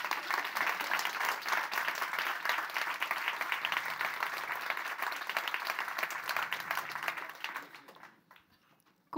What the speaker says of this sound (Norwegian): så må dere klappe.